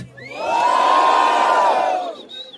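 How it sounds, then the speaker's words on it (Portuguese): A rap battle crowd roars in a single sustained shout of votes for one rapper, swelling loud over about two seconds and then fading into scattered cries. "quem acha que a rima do Bendito foi melhor do Pan e deu um grito"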